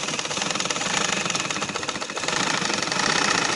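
Sewing machine stitching invisible lace onto the slit of a frock, a fast steady mechanical rattle of the needle running continuously and close, growing slightly louder toward the end.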